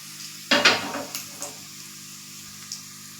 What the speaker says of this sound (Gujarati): તલ એડ કરી અને આપણે બરાબર મિક્સ કરી લેશું.